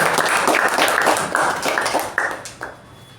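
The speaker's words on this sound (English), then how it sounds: "Let's give a big round of applause for both the evaluators." Applause for the evaluators at a Toastmasters club meeting, a dense burst of many hands clapping close by that holds steady, then thins and fades out over its last second.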